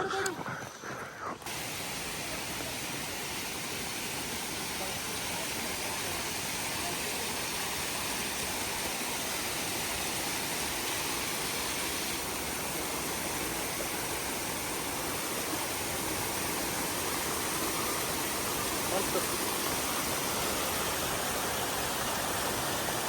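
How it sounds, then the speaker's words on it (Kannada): A big waterfall with water plunging from a great height during a monsoon ride, heard as a steady, loud, broad rushing roar that holds unbroken throughout, with a brief rougher burst at the very start. "ಎಷ್ಟು ದೊಡ್ಡದೈತಲ್ಲ ಅದು ಫಾಲ್ಸು, ಎಷ್ಟು ಮೇಲಿಂದ ಬೀಳ್ತೈತೆ ನೀರು."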